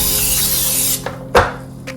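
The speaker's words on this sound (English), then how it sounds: "you will quickly spray the top" A continuous hissing spray of non-stick cooking spray onto waffle batter in a waffle iron sounds up close for about a second, then cuts off, followed by a couple of short sharp knocks.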